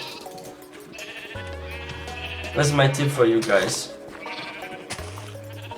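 Minecraft sheep bleat in a wavering, prominent burst midway through, while someone talks over steady background game music.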